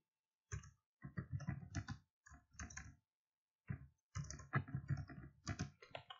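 Typing on a computer keyboard, bursts of quick clicking keystrokes separated by short pauses, close and clear with no talking.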